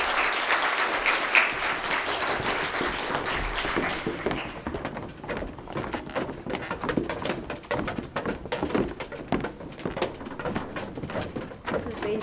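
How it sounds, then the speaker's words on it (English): Audience applause at a Grade 6 school prize-giving ceremony, a broad burst of many clapping hands that thins into scattered individual claps toward the end, with faint background voices. "Could we give him a round of applause?"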